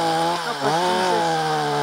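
Two chainsaws run together at a steady, loud drone with shifting engine pitch, close by and continuous, with no talk over them.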